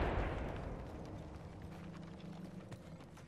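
A grenade detonation in the Apex Legends video game, with a muffled boom at the start that decays into a rumbling, crackling tail. Faint scattered impacts follow.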